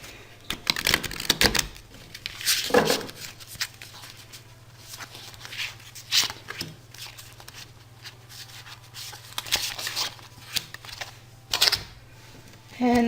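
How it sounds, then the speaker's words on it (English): Tarot cards are handled and shuffled in irregular bursts of papery slaps and rubs close by, separated by brief pauses, with a low steady hum underneath. "I'm going to be shuffling the cards, and I'm going to be picking one card from Archangel Gabriel."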